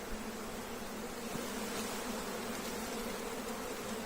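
Honeybees hum steadily inside a hive box during a colony split in an apiary, a dense, continuous buzzing swarm drone that stays close and even throughout.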